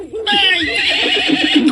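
A horse neighs loudly and close by, a long, wavering whinny that rises then trails off in breathy shudders, heard alone without talk.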